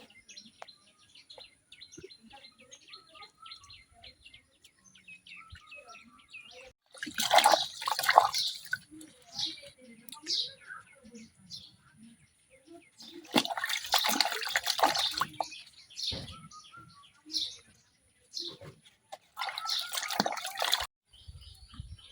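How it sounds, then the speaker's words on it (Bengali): Taro leaves being washed by hand in water, with bursts of splashing and dripping between quieter stretches, and birds chirping faintly in an outdoor village setting. "আমি এখন কচু পাতাগুলো খুব ভালোভাবে ধুয়ে নিলাম"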